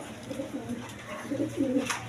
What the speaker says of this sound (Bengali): তো প্রথমে এই পেয়ারটা রাসগোল্লা কবুতর